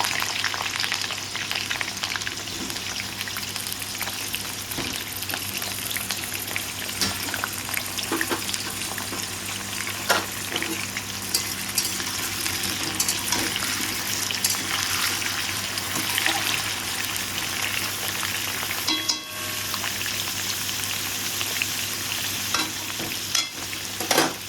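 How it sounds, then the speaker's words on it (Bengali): Potatoes frying in a pan with salt while being stirred, a continuous close sizzle with frequent scraping and clinking of a spatula against the pan, steady and loud throughout. "একটু নুন দিয়ে ভাজবো আমি আগে আলুটাকে"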